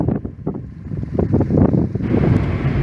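Strong wind buffeting the microphone while riding along Highway 93 in Nevada, loud gusty roaring that swells and builds toward a steadier rush, with no speech.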